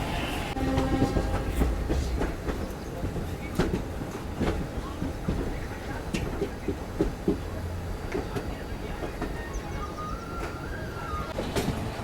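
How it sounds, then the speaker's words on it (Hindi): A goods train rolls past close by near a station, its steady rumble and clattering wheels filling the whole stretch without letup, with no talk over it. "एक गुड्स ट्रेन आप देख रहे हैं ना, तो ये उस तरफ से ही आ रहा है"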